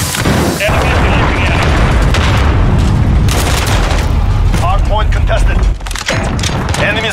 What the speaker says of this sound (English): Enemy cruise missile.